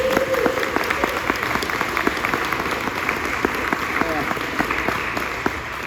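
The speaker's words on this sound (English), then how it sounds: "So give him a round of applause." An outdoor audience at Porchfest Raleigh claps steadily and fairly close, a sustained round of applause lasting several seconds, with faint voices underneath.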